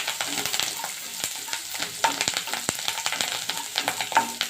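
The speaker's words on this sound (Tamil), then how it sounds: "இதில் நம்ம கருவேப்பிலையை ஆட் பண்ணிக்கலாம். நல்லா நம்ம வதக்கிக்கலாம்." Curry leaves sautéing in hot oil with onions for a South Indian broad bean poriyal, giving a steady close crackling sizzle with irregular sharp pops and scraping stir strokes throughout.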